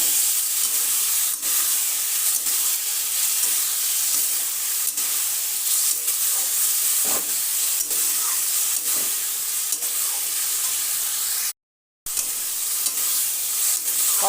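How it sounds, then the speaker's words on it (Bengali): Tomato paste and ridge gourd sizzling in a pan while being sautéed, a steady hiss of frying broken by soft stirring scrapes, with one brief silent gap near the end. "দিয়ে ঝিঙের সাথে ভালো করে কষিয়ে নিলাম।"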